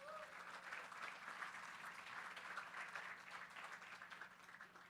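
A crowd applauds steadily for about five seconds, a dense wash of many hands clapping at an even level throughout.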